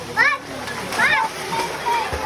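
People bathing in cold river water at Biak na Bato, San Miguel, Bulacan, with bright splashes and sloshing close by, mixed with children's shouts and talk over steady flowing water.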